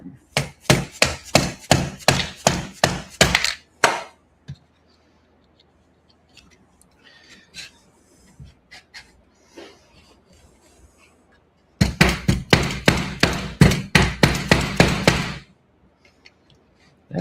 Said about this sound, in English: I may have to hit it with an orange hammer because it's being stubborn.